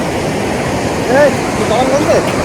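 A large river rushes in a loud, steady broadband roar close by, with a few brief chirp-like tones rising over the flowing water.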